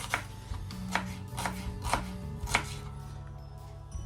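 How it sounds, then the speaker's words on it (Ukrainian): Knife chopping an onion on a board, a steady series of sharp, close taps at a regular rhythm with no talking. "І цибулю нарізаємо не досить дрібненько."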